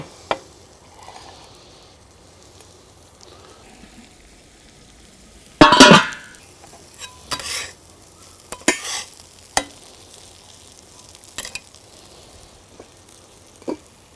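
Steak meat with sauce sizzles and reduces in a pan for a Philly cheesesteak. A quiet background sizzle is broken by sharp, intermittent clatters and scrapes of stirring, with the loudest burst about midway.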